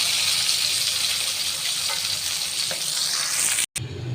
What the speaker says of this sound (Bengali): মাছটা ভেজে নেব, তারপর আমি উঠিয়ে নেব।